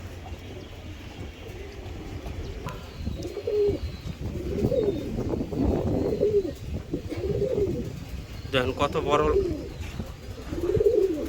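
Giribaz pigeons coo in repeated soft rising-falling calls, several in a row at close range, while someone talks over them.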